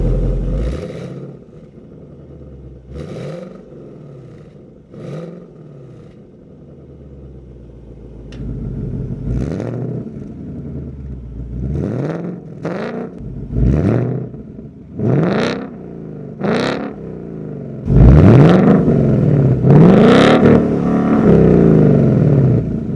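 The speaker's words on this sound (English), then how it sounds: "Now this car is equipped with the active exhaust. So here's our different exhaust." A 2019 Ford Mustang GT with active exhaust revs repeatedly at standstill, sharp throttle blips rising and falling in a rough rhythm, growing louder and deeper across exhaust modes toward a sustained roar near the end, no talking.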